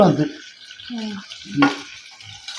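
Small onions sizzle and fry in a pan with a soft, continuous hiss and occasional stirring scrapes, while a person talks over the cooking.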